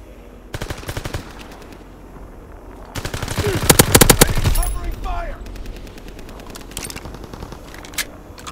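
Submachine gun fire in the Call of Duty: WWII video game during a Stalingrad battle, loud rapid bursts of automatic shots, several separate volleys with a long heavy burst in the middle, voices shouting in between.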